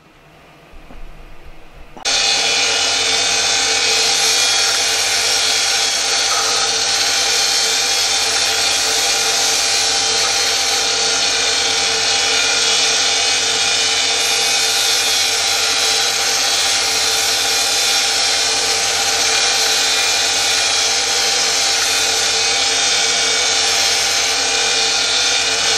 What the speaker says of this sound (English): Sand the edges off where they're going to be glued just so they taper to almost nothing